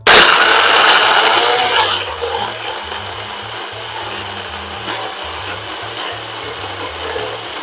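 A blender whirs loudly at the start while mixing a chocolate avocado treat with ice, then the motor settles into a lower, steady grinding drone with a low pulsing rhythm.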